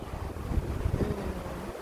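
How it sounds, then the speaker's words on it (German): Gusty wind buffets the microphone in low, rumbling bursts, with faint water and outdoor ambience behind it. "it's so windy today"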